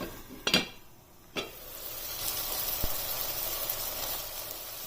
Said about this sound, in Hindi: अब इसे कवर करके 6 से 7 मिनट तक कुक होने देना है।